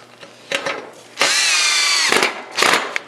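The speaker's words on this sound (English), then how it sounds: "And then I'm gonna put a screw in." Power drill driving a screw into the rain guard of a vintage car under restoration: two short trigger bursts, then a sustained high whine of about a second, followed by two more brief bursts, close and loud.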